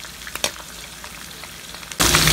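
Garlic hits a hot pan for sisig; a few soft crackles and pops give way to a sudden, loud, steady sizzle close by.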